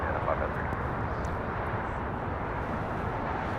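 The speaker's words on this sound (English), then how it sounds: "This is China's Southern Cargo 2538 taking off to Guangzhou on a 777 freighter." A China Southern Cargo Boeing 777 freighter takes off, its jet engines a loud, steady broadband roar that holds without letup from start to end.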